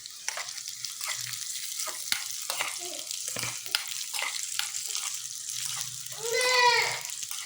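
Raisins and cashews fry in ghee for carrot payasam, a steady close sizzle and crackle running throughout with brief stirring scrapes, rising slightly louder near the end.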